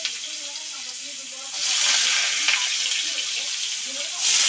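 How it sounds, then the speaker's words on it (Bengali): Potatoes dropped into hot oil in a kadai set up a loud, steady sizzle and hiss that swells suddenly after a quieter opening with faint talk, then holds close and even. "এবার আলুগুলো ভেজে নেওয়া হবে। এই যে কড়াইতে দিয়ে দিলাম।"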